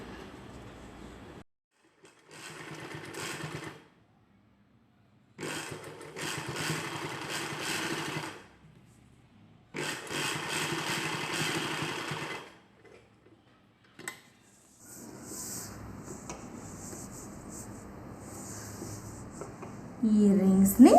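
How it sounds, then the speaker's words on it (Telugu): A sewing machine stitches prepared cloth for a collar neck dress, running in several separate bursts of steady whirring and clattering with pauses between them, then running longer toward the end. "ఇప్పుడు ముందుగా ప్రిపేర్ చేసి ఉంచుకున్న ఈ క్లాత్ని ఇలా పెట్టి కుట్టు వేసుకోవాలి."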